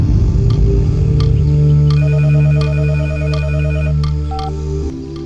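A phone ringtone plays loudly and steadily, a repeating electronic melody with a sustained tone under it, alone with no voices.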